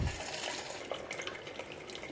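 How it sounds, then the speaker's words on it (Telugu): Water poured from a vessel into cooked dal with tamarind leaves, a steady close splashing pour lasting the whole stretch, moderately loud and alone without talk. "సో పప్పులో కనుక వాటర్ అంటే ఇలా వంపేసుకోవాలండి."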